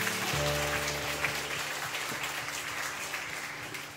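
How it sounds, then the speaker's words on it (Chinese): A wedding congregation in a church service claps together in a dense, steady round of applause that carries on throughout, loud and close, with a faint hum of voices beneath. "好，好大掌声俾我哋主嘅神"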